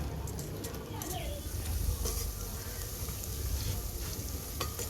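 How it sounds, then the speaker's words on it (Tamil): Beef 65 deep frying in oil over a medium flame gives a constant close sizzle with occasional stirring scrapes and light clinks throughout. "மிதமான தீல வச்சு நல்லா பொறிச்சு எடுத்துக்கலாம்"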